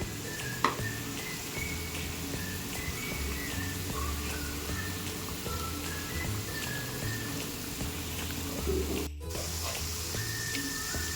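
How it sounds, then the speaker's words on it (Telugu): Taro root (colocasia) pieces frying in a pan sizzle in a steady, dense hiss, with occasional soft stirring scrapes and a few light pops, close and continuous, with no voices. "మధ్య మధ్యలో ఇలా కలుపుతూ వీటిని ఫ్రై చేసుకోవాలన్నమాట, ఈ చామదుంపల ఫ్రైని."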